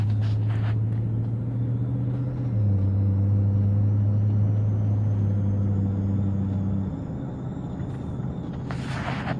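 A Hummer H3T Alpha with a 5.3 V8 and Borla Pro-XS exhaust drives at light throttle, its deep, steady engine drone close and loud throughout, with the pitch shifting slightly midway and a brief noise burst near the end.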